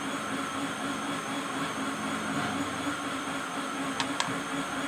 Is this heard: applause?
no